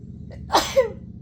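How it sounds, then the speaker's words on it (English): A single sharp sneeze, close and loud, bursting out after a short intake of breath, with quiet background around it. "Uh-oh, I feel a sneeze."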